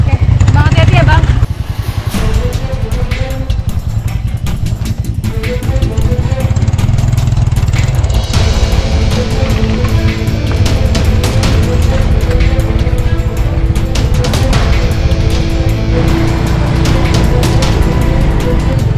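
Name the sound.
loaded motorcycle riding on steep road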